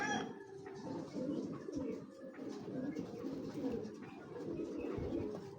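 Pigeons at a pigeon farm keep up a low, continuous cooing chorus of overlapping throaty calls, moderately close, with no voices clearly heard.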